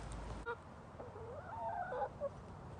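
Backyard hens squawking and clucking nearby after an egg is taken, a few agitated rising calls in quick succession over a faint, quiet outdoor background.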